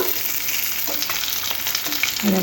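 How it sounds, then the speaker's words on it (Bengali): Fish fried golden on both sides sizzles steadily in hot oil for an Aar fish curry, a continuous crackling hiss close by with a few small pops and the light scrape of a utensil, no voices. "মাছের দুই সাইড দেখুন এরকম গোল্ডেন কালার করে ভেজে নিয়ে নিয়েছি"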